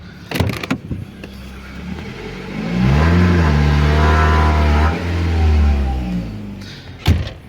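A Ford Focus engine revs hard in first gear against a fully pulled handbrake, rising to a sustained loud strain, dipping briefly, then falling away, with clicks and knocks before and after.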